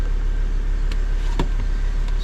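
A Ford Transit 350HD with a 3.2L engine and a newly replaced starter runs steadily after a restart. The engine drones loud and close throughout, with a few brief clicks and knocks over it.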